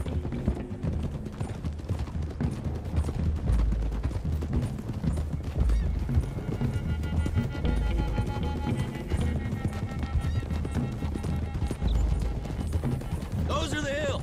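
Galloping horse hoofbeats in Red Dead Redemption 2 drum steadily and continuously, with people talking over the pounding rhythm.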